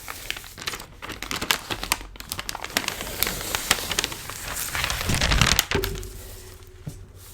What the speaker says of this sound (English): then you're just going to release the paper. And that's going to reveal the sticky side of the contact paper.